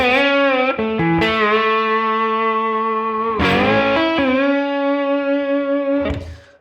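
An overdriven electric slide guitar lick in open E tuning, raked and slid into sustained singing notes with swooping pitch bends, loud and reverberant with no talking.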